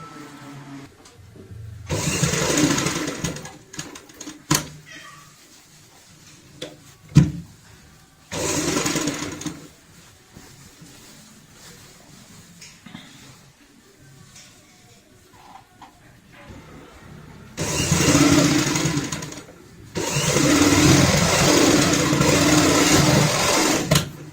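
An electric sewing machine stitches a fabric bag in several bursts of steady whirring, separated by quiet pauses with small clicks and handling noises, the last run long and sustained.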